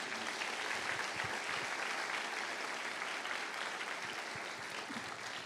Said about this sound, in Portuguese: dá ao Senhor uma linda salva de palmas